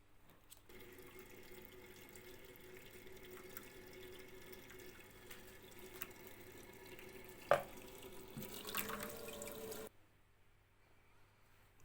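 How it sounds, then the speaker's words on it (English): Hot water running from a tap into a plastic homebrew fermenter for a Coopers kit, a steady close gush that cuts off near the end, leaving near silence. "I'll get some hot water in here going"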